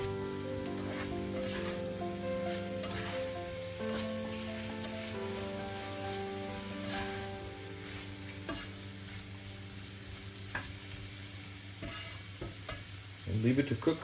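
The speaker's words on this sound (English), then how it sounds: "Make sure to stir it well." Beef bourguignon being stirred in a pot, a steady low sizzle and bubbling with faint spoon scrapes throughout, ending in a louder burst of clattering stirring.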